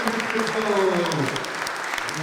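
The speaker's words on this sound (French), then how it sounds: "je voudrais qu'on lui fasse un tonnerre d'applaudissements" Audience applause at a French public debate on secularism and the Republic, a dense steady patter of many hands over the whole stretch, with voices talking over it.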